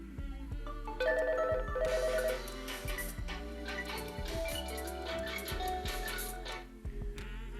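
A smartwatch rings with an incoming phone call, a repeated electronic ringtone melody with bright beeping tones that loops steadily over several seconds at moderate level, with no talking.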